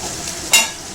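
A pan sizzles on a high gas flame after a tempering of nigella seeds, salt and turmeric. A steady close hiss carries a single brief louder stir or scrape near the middle of the short moment.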